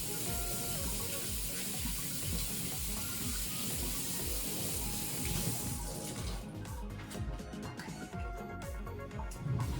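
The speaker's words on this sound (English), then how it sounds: "Wash off my hands." Tap water running steadily into a sink while hands are washed under the stream, a continuous close splashing hiss that thins out toward the end.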